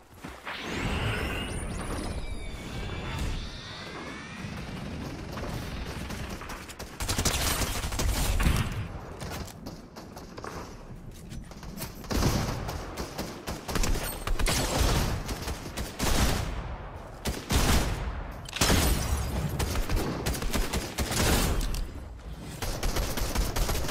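Rapid bursts of gunfire crackle through a shooting video game, dense overlapping shots and fusillades repeating across the whole stretch at steady loudness, with whooshing effects early on.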